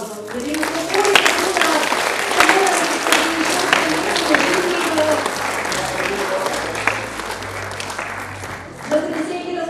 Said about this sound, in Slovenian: Spodbudimo jih še z enim aplavzom